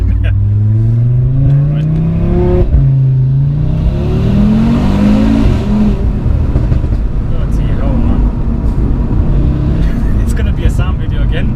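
A 500 bhp Audi RS3 that shoots flames revs its engine loudly, with rising and falling tones as it accelerates hard nearby; someone briefly says one word over the steady engine roar.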